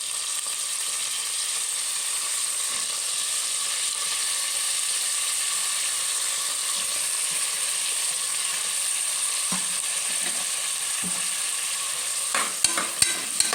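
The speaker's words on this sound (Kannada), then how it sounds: "ಈರುಳ್ಳಿ ಮತ್ತು ಬದನೆಕಾಯಿ ಸ್ವಲ್ಪ ಫ್ರೈ ಆಗಬೇಕು" Onions and brinjal fry in hot oil in a pressure-cooker pot for vangi bath, giving a steady, close, even sizzling hiss throughout, with a few clicks of stirring near the end.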